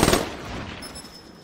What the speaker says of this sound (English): Didn't have to fire that third burst.